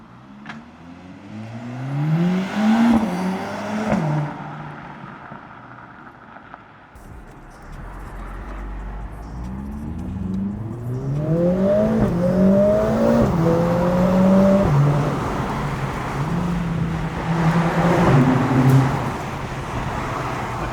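A Mercedes CLA45 S AMG engine revs up and down through gear changes, rising harmonic whine repeating over about twenty seconds, loud and close inside the car.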